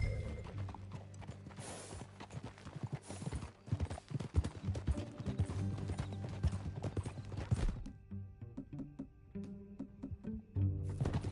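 Horse hooves clopping at a riding pace in the video game Red Dead Redemption 2, a rhythmic run of close hoof strikes under game music and tack noise, easing off near the end.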